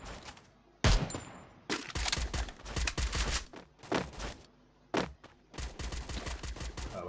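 Gunfire in the mobile battle royale game Free Fire: loud bursts of shots in quick clusters, broken by short pauses, with almost no talking.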